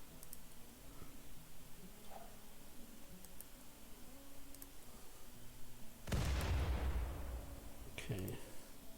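A grenade blast in a video game, a sudden loud burst with a decaying rumble standing out over quieter game sounds and faint ticking.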